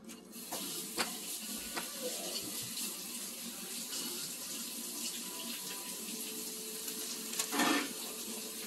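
Tap water runs steadily into a sink as hands are washed after battering coconut shrimp, a continuous close wash with a brief louder splash near the end and no talking.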